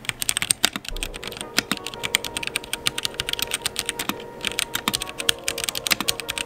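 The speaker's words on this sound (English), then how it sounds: "This is the Ducky 1-2 Mini keyboard." Typing on a Ducky One 2 Mini mechanical keyboard with lubed red switches: rapid, close, uneven clacks of keystrokes in quick bursts with brief pauses, loud and alone without any talking.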